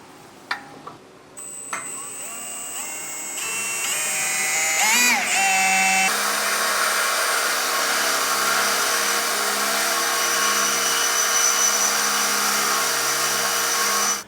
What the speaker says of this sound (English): I'm going to start out with an 1/8 inch bit and work my way up to a 1/2 inch